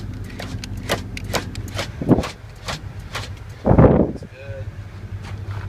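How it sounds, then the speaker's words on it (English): Power door locks on a 2005 Cadillac Escalade EXT AWD clunk twice as short muffled thuds inside the cabin, over a low steady hum, with a person talking between them. "Door locks."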